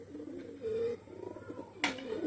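Pigeons kept for sale give soft, low cooing phrases nearby, a few brief rolling coos with a sharp click partway through.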